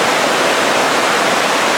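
Waterfall in a canyon in the Dominican Republic, water running under a rock, a dense steady roar of rushing water, loud and close, with no break and no voices.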